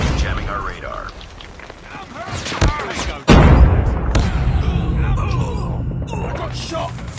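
Game gunfire and explosive booms from Call of Duty Mobile, with a heavy blast near the middle followed by sustained rumbling and scattered shots, loud and close, mixed with in-game voice callouts.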